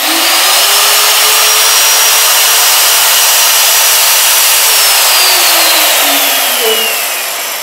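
An Alfra magnetic drill motor runs steadily, a loud close high-pitched whine that holds for several seconds before its pitch sinks slightly near the end.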